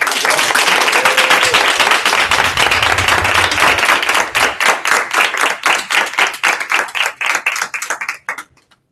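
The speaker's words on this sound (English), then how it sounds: "we want to clap it up for everybody" Audience applause at an advertising-industry conference session on programmatic: loud, dense clapping that thins into scattered individual claps before stopping abruptly near the end.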